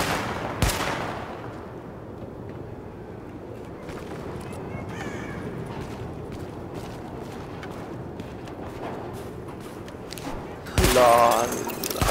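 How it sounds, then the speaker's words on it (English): Weapon-test gunfire at targets in Tom Clancy's The Division, two sharp loud shots near the start and end over a steady game background, with a voice speaking. "Open fire at the highlighted targets."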